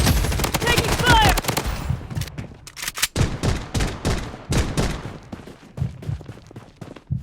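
Machine gun fire in the Blood Strike shooter game, rapid bursts of loud shots in quick clusters with short gaps, dense at first and then more scattered.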